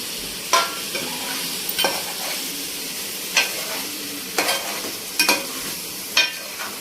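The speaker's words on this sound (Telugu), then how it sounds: "ఇప్పుడు ఏవైతే స్టఫ్ పెట్టుకున్నామో వంకాయలు అవి కూడా ఇప్పుడు వేసేసుకుంటున్నాము" Stuffed brinjals tumble into a pan of hot oil and sizzle steadily while a spoon scrapes and stirs them, with several sharp clatters of the utensil against the pan over a constant frying hiss.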